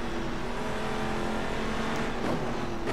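A GT3 race car in the video game rFactor 2 at Silverstone: a steady, loud, high-revving engine drone heard from the car at full speed, with a brief rise in pitch near the end and no talking.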